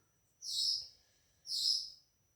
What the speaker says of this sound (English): I'm sorry for the binky noises